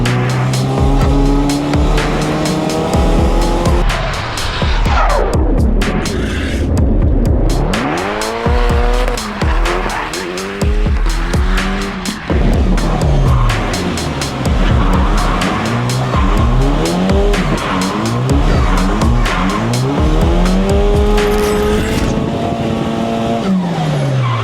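A drift car at Mondello Park, a Mazda Solstice on a test session, revs hard with tires squealing and skidding through sustained slides; loud, close engine howl with rising and falling pitch, no talking.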